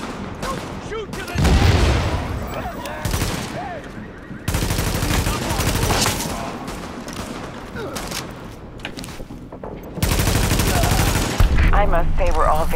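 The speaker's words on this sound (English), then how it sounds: "Supplies taking fire" Gunfire in the video game Tom Clancy's The Division, sustained bursts of automatic weapon fire and rattling shots in dense volleys with brief gaps, mixed with game voices shouting.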